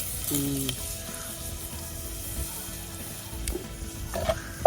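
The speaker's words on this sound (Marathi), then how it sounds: "मग टाकायची बरं आधी लालसर करून घ्यायची का लसूण" Garlic frying in oil over a wood-fired clay stove, a soft steady sizzle running throughout with a few light clinks and stirring scrapes toward the end.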